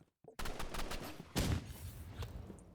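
Gunfire in the Roblox shooter Rivals: several sharp shots and a short rapid burst follow a brief silence, loud and close, with a heavier blast midway through.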